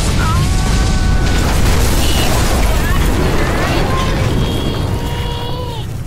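A large explosion in a VRChat world booms with a loud, sustained rumble filling several seconds, while whistling tonal effects and excited voices play over it.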